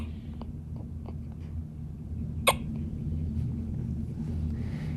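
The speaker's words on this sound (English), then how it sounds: "Even his occasional hiccups are, to me, adorable." A newborn baby boy's single hiccup, a brief sharp catch heard once, close and fairly quiet over a steady low background hum.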